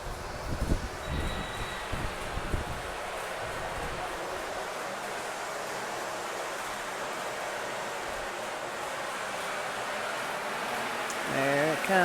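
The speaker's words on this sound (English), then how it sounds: "Here comes the train." A model train rolls along an outdoor garden layout, a soft continuous rumble and clatter under a steady wash of running water from a nearby fountain, with a few knocks at the start.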